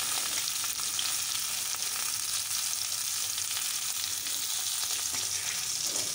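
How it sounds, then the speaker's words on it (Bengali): Fish pieces frying in hot oil for a spicy fish curry, a dense, steady hiss of sizzling that runs unbroken and fairly loud from start to finish, with no voices. "মাছটা প্রথমে ভেজে নেওয়া হচ্ছে তারপর মাছের ঝাল হবে"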